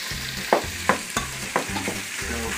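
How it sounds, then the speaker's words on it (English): Ground meat frying in a pan while being stirred for tacos, a steady close sizzle broken by a few sharp scraping clacks of the utensil against the pan. "So fry the meat."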